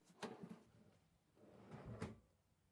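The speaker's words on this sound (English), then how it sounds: "Then it's time for that first test to see how well the drawer fits." A wooden drawer slides into a newly built router table cabinet in a woodworking shop, making two soft, close sliding thumps about two seconds apart, faint and with no talking.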